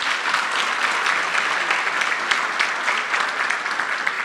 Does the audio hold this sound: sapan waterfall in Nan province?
no